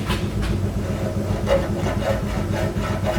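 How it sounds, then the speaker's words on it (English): Babbitt shavings scraped off a worn bearing, a steady rhythmic rasping with repeated scrape strokes, close and fairly loud, with no voices. "it shaves the Babbitt shavings off pretty well"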